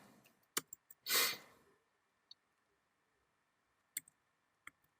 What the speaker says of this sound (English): We have to type nmap at least.